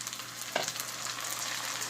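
Tomatoes go into a pan of onions fried light brown, and a soft, continuous sizzle crackles steadily with one brief clink partway through, no voices present.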